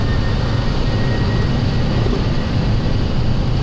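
Airliner jet engines at takeoff thrust on runway 26 during a night departure from Tel Aviv, a loud, steady, broadband roar that holds throughout without any talk.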